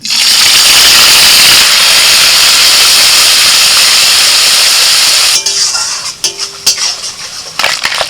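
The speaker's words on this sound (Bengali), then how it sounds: "কড়াইতে যে তেলটা আছে ওই তেলের মধ্যে আমি দিয়ে দিচ্ছি আদা রসুন আর কাঁচা লঙ্কা বাটা" Ginger, garlic and green chilli paste hits hot oil in a wok and sizzles loudly, a steady bright hiss for about five seconds before it settles into softer, uneven spatters and clinks of a utensil.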